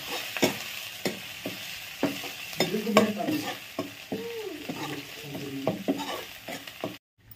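Garlic frying in a pan for a rustic small-fish rasiya, a close steady sizzle with frequent scraping stirs and a brief voice in the background.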